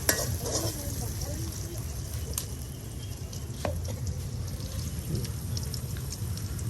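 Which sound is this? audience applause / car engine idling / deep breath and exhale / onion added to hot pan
onion added to hot pan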